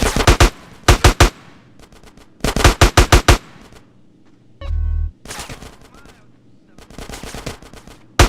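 Automatic gunfire in GTA San Andreas during the Los Santos finale mission, with several loud rapid bursts of shots separated by short pauses and a brief low rumble in the middle.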